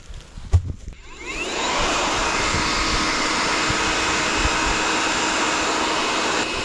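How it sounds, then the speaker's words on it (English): A hair dryer switches on after a brief clatter and blows steadily with a loud, constant whooshing roar, at a cold campsite. "My handy dandy blow dryer."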